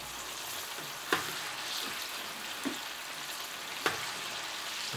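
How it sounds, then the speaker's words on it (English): Shredded beef fries in a batch of hot oil with a steady, dense sizzle, broken by three sharp pops or stirring clinks spaced about a second apart. "We don't want to overload the oil because A, we might spill over, and B, it'll cool down the oil too much, so we won't get the crispy effect"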